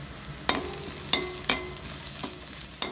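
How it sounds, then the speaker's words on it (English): Onion sautéing with turmeric in a pan for a South Indian pachadi: a soft, steady sizzle broken by several sharp clinks and scrapes of a stirring spoon, close by and with no talking. "saute the onion for a few minutes"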